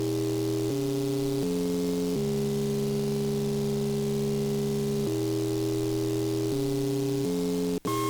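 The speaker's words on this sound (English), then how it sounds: "this is sub bass. There's the sine wave from earlier." Synthesized sub bass sine tones from an album project file sustain in steady low notes that step between pitches every second or two, loud and alone apart from a brief click near the end.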